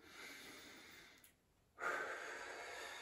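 Slow, soft breathing through the nose: a long airy exhale-like hiss, a brief pause, then a steady drawn-in breath, faint and close.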